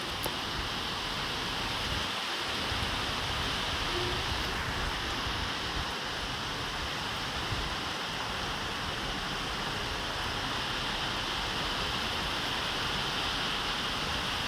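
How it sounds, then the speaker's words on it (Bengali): Heavy torrential rain pours down in a dense, constant roar of hiss and patter that stays even and loud throughout, with no other sounds rising above it. "কীভাবে বৃষ্টি হচ্ছে একদম মুসলধারে"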